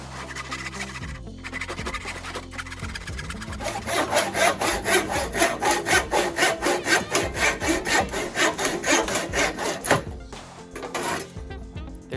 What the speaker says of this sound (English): For this, I'll just use an old-fashioned handsaw.